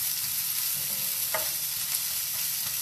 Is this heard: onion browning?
yes